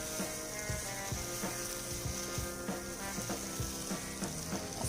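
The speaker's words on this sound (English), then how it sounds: "I'm now going to mix all these ingredients and fry this for another 1 minute" Steady crackling sizzle of spices and ingredients frying in a pan for a coconut tomato curry, with scraping and stirring clinks throughout, no voices.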